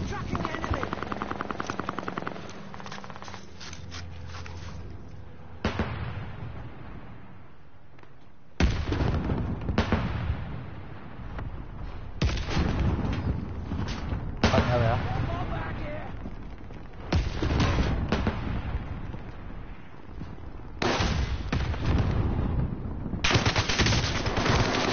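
Intense bursts of automatic gunfire and explosions in a PS4 shooter game, loud and dense, coming in repeated waves with short gaps between them, a helicopter-like drone underneath and no talking.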